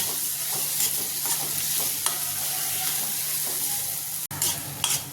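Mashed potatoes are stirred into a hot pan of frying bread pakoda filling. A low steady sizzle runs under repeated scraping strokes of a spoon, with one sharp knock near the end.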